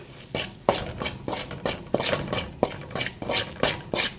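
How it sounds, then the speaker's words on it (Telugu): Gram flour being stirred into ghee in a pan, a spoon scraping the pan in a steady rhythm of about ten close, clear strokes, with no talking. "తీసుకున్న శనగపిండినంతటిని వేసి ఉంటగట్టకుండా ఇలా అయితే కలదిప్పుతూ ఉండాలి"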